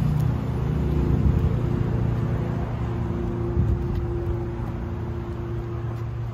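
Nissan GT-R sports car engine running steadily close by, a low droning hum with a smooth, even tone that holds for several seconds without revving and with no talk over it.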